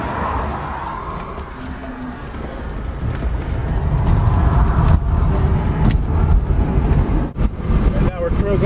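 An electric Porsche 914 conversion rolls along a road at about 50, its tire roar and wind rush building steadily and filling the cabin, with brief bumps and a faint hum underneath.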